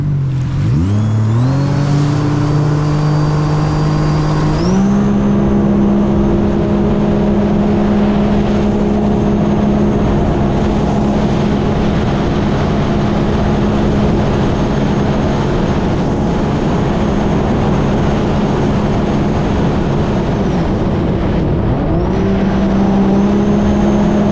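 A Sea-Doo RXT-X jet ski with a Rotax engine runs at high speed, its loud sustained whine rising in pitch as it accelerates, then holding near top speed close up without any talk.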